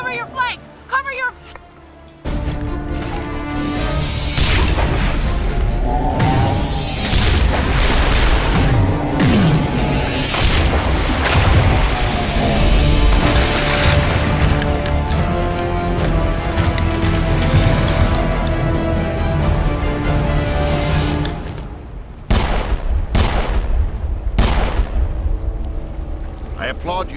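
Combat in the Mass Effect video game, with booming explosions and rumbling gunfire over a sustained dense roar, shouting voices throughout, then sharp isolated bursts toward the end.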